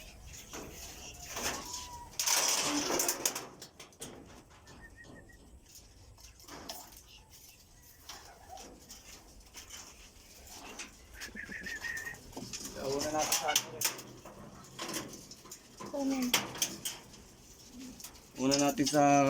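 Racing pigeons coo at their loft as birds come in from a race released at Rosario, La Union. The soft, throaty coos repeat intermittently over faint background noise.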